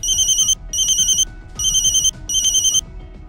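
A telephone rings four times, each electronic trill loud, close and evenly spaced, with a low rumble underneath.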